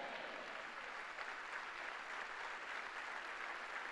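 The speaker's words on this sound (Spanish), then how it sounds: "¡Aplausos!" Congregation applause during an evening Sunday church service, a steady wash of clapping that sounds distant and fairly faint for a few seconds.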